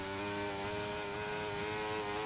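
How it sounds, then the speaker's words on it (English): Droning, slightly stuttering car engines from a Great Britain placement race in a racing video game, a steady buzzing whine with layered harmonics that wavers as the engines seem to cut out near top speed. "I do hate the engine sound"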